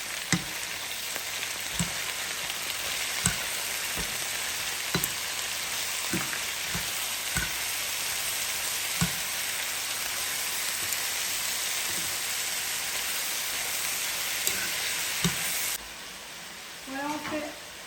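Zucchini spaghetti, salted and releasing water, sautéing in a pan with a constant sizzle and regular soft taps from stirring, quieter in the final seconds.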